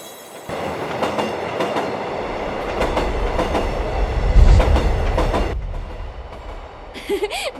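A cartoon space train styled like a rocket rushes along toward Neptune with a loud, steady rumbling roar and rhythmic rail clatter that swells midway, then cuts off into a brief whistle-like tone at the end.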